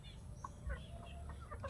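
Chickens clucking in a farmyard, a few short soft clucks over low background rumble, faint and brief.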